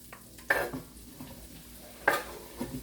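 Ingredients for Memphis bomb rice hitting a cast iron skillet, a soft sizzle broken by two sharp metallic clanks and scrapes of stirring, fairly close.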